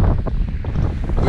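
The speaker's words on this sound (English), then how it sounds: "the wind's actually going to pick up even further" Strong wind roars across an open fell top in the Lake District's Eastern fells, a steady broadband rush with gusty low buffeting against the microphone, no voices.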